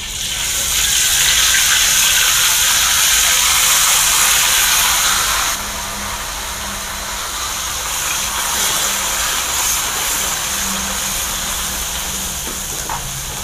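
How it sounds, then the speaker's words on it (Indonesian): Spice paste for rendang hits hot oil and sizzles loudly, a dense steady frying hiss that settles into a slightly quieter, even crackle as cooking continues. "minyak sudah panas, kita langsung masukkan bumbu ini"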